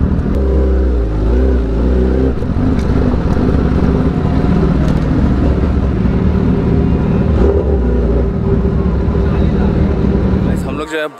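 A Kawasaki Ninja ZX10R engine roars loudly and steadily for about ten seconds, a dense low rumble with revving swells, then cuts off abruptly near the end.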